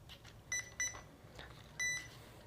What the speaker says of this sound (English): It's beeping to let me know that it's recognized the car and also that it's got 2 cells.